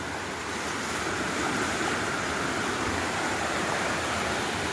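A river running high after heavy rain rushes along a mountain hiking trail, a dense, steady roar of water that stays loud and unbroken throughout, with no voices.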